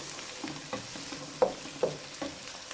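Meat for a peas and chicken curry being stirred and fried in a pot, a soft steady sizzle with a few brief scraping stirs of a spoon, close and quiet.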